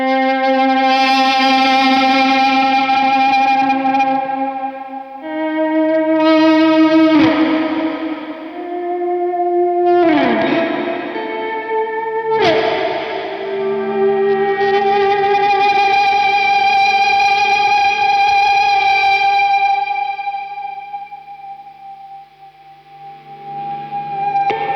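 Guitar played through an amp with its spring reverb turned fully up, sustained notes and chords trailing into long, splashy, washing tails, with sharp attacks that boing and ring out before fading near the end.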